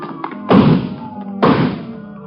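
A radio drama effect of someone breaking through garage doors comes as two heavy, resonant crashes about a second apart, each loud and then fading.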